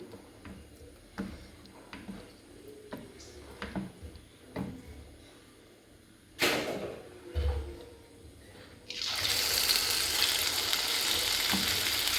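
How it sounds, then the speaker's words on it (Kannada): Kerala nei appam frying in oil in a pan, with soft intermittent sizzles and utensil taps early on, a sharp clatter midway, then a loud, steady hissing fry taking over for the final few seconds. "ಒಂದು ಕಡೆ ಫ್ರೈ ಆಯಿತು ಮೇಲೆ ಸ್ವಲ್ಪ ಆಯಿಲ್ ಹಾಕ್ಕೊಂಡು ಈ ಥರ ಫ್ರೈ ಮಾಡಿ ತೆಗಿಬೇಕು"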